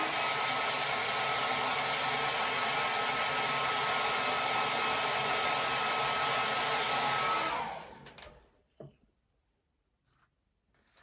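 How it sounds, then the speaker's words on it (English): Hair dryer blowing on wet paint on a painted wood bee, a loud steady close whoosh for about seven seconds before switching off, followed by a few faint handling clicks. "So we're going to dry this real quick"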